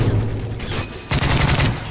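Rapid automatic gunfire in Call of Duty MW3 multiplayer, two loud sustained bursts separated by a brief pause, close and dominant.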